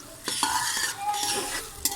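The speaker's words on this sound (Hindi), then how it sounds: "अब अच्छी तरह हम इसको ना भून लेंगे" Spices frying with stuffed bitter gourd in a pan, a spoon scraping and stirring in short strokes over a soft, close sizzle, no voices.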